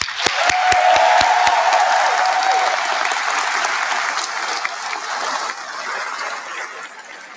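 Commencement audience clapping for a keynote speaker at a summer graduation ceremony, dense and loud at first, then gradually thinning and fading over several seconds, with a few sharp knocks at the start.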